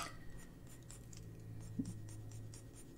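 Inktense colored pencil scratching across paper while coloring small lines, a faint dry rasp with repeated short strokes, close and quiet, with no talk.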